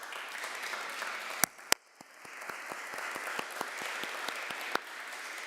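An audience at a university Army ROTC commissioning ceremony claps steadily, a dense wash of applause with a few sharp, louder individual claps standing out near the start and end.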